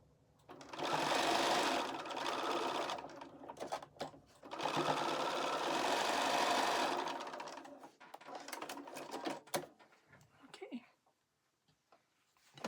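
Close sewing machine stitching a quarter-inch seam on a charm pack quilt block, running in two long loud bursts with a short pause between, then fabric rustling and clicks before falling quiet.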